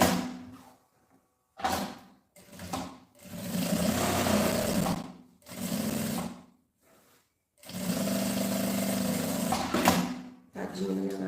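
A sewing machine stitches a backpack in several loud bursts of rapid whirring, separated by short pauses. A voice speaks in the gaps.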